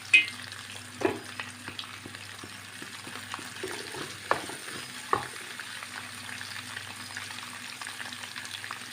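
Shallots and curry leaves sauté in a pan for a chicken curry, a soft continuous sizzle punctuated by occasional spoon taps and stirring scrapes.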